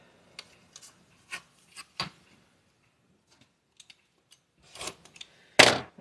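Scissors trim quilt fabric in a series of short, crisp snips and rustles, spaced irregularly and closing on a louder cut.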